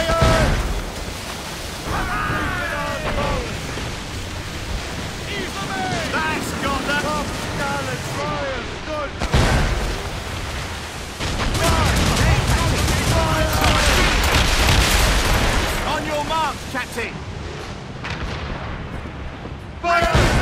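Naval cannons fire during a sea battle between sailing warships in Assassin's Creed Rogue, with repeated booming volleys over crashing waves and wind, loud and continuous, while voices shout orders throughout.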